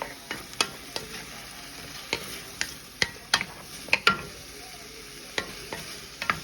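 Half-cooked zucchini sautéing in a pan for a chicken breast dish, with a steady sizzle broken by repeated sharp scrapes and clinks of a stirring utensil against the pan, close and clear.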